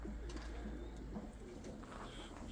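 Pigeons in a loft, among them a male of a rare coloration, give low soft coos over a steady background hum, their calls continuous and moderately close with no talking.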